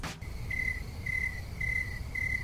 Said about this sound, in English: there wouldn't even be any crickets, it would just be like this